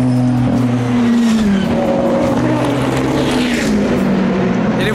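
Race cars roar past on the Hunaudières straight at the 2018 24 Hours of Le Mans, with loud, sustained engine whines sweeping in pitch as they pass very close, heard alone without talk.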